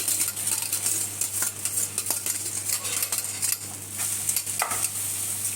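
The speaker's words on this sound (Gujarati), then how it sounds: "એની અંદર હવે પૌવા નાખીએ" Poha is tipped into a pan of cooked potatoes and stirred, a busy scraping of a spoon against the pan over a steady frying sizzle, close and continuous with no talk.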